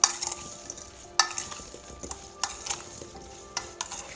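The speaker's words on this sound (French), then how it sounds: "On remue." A spoon stirs sugar through washed, stemmed cherries in a bowl, with close, irregular scraping and wet clicking strokes that start and stop in short bursts.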